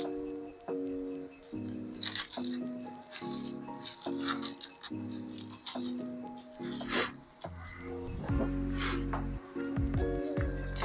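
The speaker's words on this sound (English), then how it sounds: "Peel off only the hard skin" Dry, papery rubbing and crackling as the hard outer skin is pulled off an onion before grilling. Short scratchy bursts come and go over a steady tonal background.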